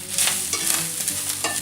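Chili with paprika, garlic and mustard is stirred in a hot pan, a close scraping of the spoon over a steady frying sizzle, with no talking.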